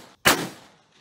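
A single rifle shot fired while testing a powder load cracks sharply at close range, with a short fading tail after the report.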